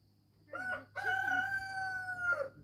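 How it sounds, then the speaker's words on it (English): A rooster crows close by, a short opening call followed by a long, drawn-out cock-a-doodle-doo that ends in a falling note, over a quiet farmyard. "Roosters are noisy."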